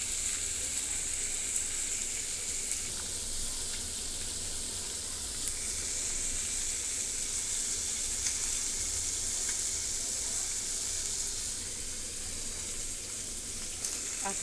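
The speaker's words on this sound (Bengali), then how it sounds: "এইভাবে পুরো মাছটাকেও একদম তেলে আলজে যে পোড়া পোড়াই করে নেব, তাও এভাবে তেলে।" A whole fish frying in hot oil, a loud, continuous close sizzle with a bright crackling hiss that holds steady throughout, with no talking.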